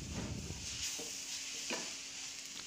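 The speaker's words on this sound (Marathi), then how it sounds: "आता हे सतत हलवत राहूया, मस्त एकजीव करून घेऊया।" Milk, milk powder and coconut are stirred together in a pan for coconut burfi. Quiet, steady scraping and soft sizzling are broken by a few faint spoon strokes. No voices.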